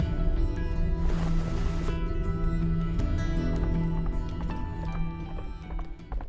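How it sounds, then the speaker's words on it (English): In the video game Black Beacon, a horse's hooves clip-clop steadily at a trot, coming closer, over a dense layer of game music and ambient rumble with a brief swell of noise. "A swift horse is approaching, Your Highness."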